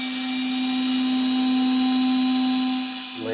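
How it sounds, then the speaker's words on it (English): A hammer drill layered with other recorded textures, a loud sustained droning whine with a strong steady pitch and harmonics that shifts and drops off near the end. "The hammer drill"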